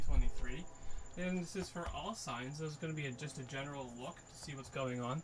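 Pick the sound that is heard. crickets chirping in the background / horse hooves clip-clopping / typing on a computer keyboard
crickets chirping in the background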